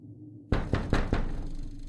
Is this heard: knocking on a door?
yes